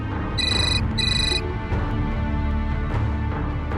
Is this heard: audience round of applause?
no